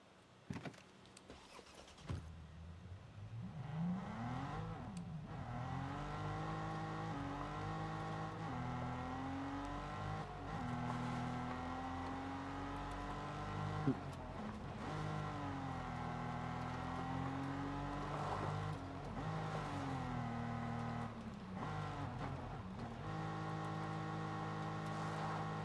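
A car in the video game Ghost Recon Breakpoint revs its engine in long rising and falling pulls, a loud continuous drone that climbs and drops repeatedly after a quiet start.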